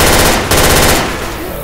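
Rapid automatic gunfire from the video game Left 4 Dead 2, a loud continuous burst of shots lasting over a second that tapers slightly toward the end.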